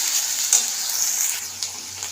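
Potato pieces fry in hot oil with mustard seeds and curry leaves, giving a continuous close sizzle with small crackles throughout.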